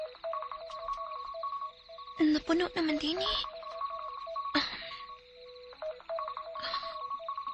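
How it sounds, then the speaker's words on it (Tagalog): A mobile phone alarm rings nearby in a repeating electronic tone pattern that keeps cycling, and people talk over it in between. "Nag-alarm man."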